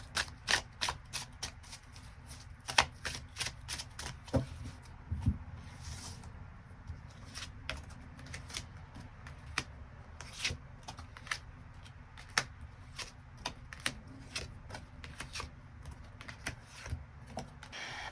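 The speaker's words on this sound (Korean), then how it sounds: "추가 카드 뽑아보도록 하겠습니다" Tarot cards shuffled and drawn by hand, a continuous run of soft rapid flicks and riffles with occasional sharper snaps, close and quiet with no voices.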